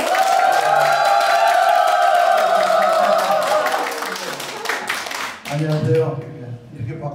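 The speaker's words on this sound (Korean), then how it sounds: "충주 향교 이찬재 전교님을 우리 박수로 맞이해주세요" Audience applause greets a local Confucian school head at a folk song contest hall in Chungju, a steady wash of many hands clapping loudly throughout, thinning near the end as a few voices speak.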